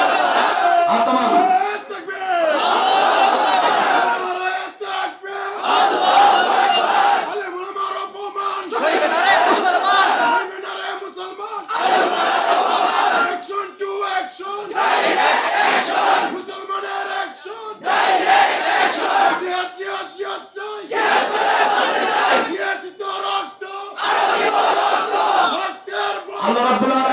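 A large crowd at an Islamic religious gathering in Bangladesh answers a takbir call with loud unison chanting, roaring in repeated bursts separated by short pauses.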